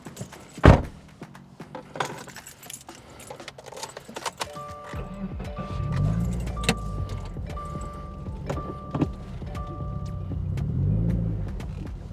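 A car with a newly fitted Deatschwerks fuel pressure regulator starts with clunks and mechanical whirring, then its engine runs and revs in swelling low surges, nearby and fairly loud.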